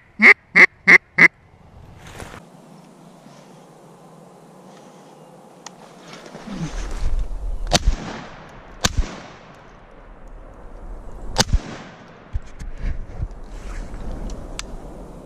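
Sharp shotgun blasts ring out during a duck hunt, fired at two mallards, several sudden cracks spread over the second half. A short burst of loud duck quacks opens the clip, over steady wind and outdoor rumble.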